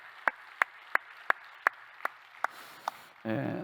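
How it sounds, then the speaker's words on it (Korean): Eight sharp, evenly spaced claps ring out alone at a steady rhythm, then a burst of broadband noise cuts in at the end. "한번 좀 응원의 박수, 격려의 박수 한번 하겠습니다"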